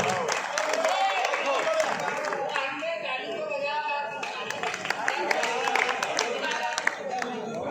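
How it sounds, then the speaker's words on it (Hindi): Clapping and applause from the audience at an Independence Day mushaira poetry gathering in Sendhwa, a dense crowd sound with voices talking over it, steady for several seconds. "ज़ोरदार तालियों से इस्तेमाल कर दें"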